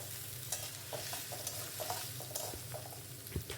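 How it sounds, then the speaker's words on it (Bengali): Three medium chopped onions fry with garlic and spices for an egg curry, a soft continuous sizzle broken by repeated stirring scrapes, with no one talking. "পেঁয়াজগুলো দিয়ে সমস্ত কিছু ভালো করে ভেজে নেব।"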